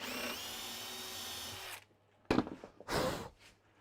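A 5.5mm hole drilled down the center of thick stock for a Lutyens bench seat: a steady power drill whine runs for under two seconds, then stops, followed by a couple of brief scraping, rubbing noises.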